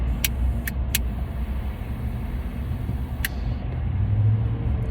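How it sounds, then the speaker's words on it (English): A steady, heavy rumble of a car idling and creeping in road traffic, heard from inside, with a few faint clicks and no speech. "stuck in a little traffic,"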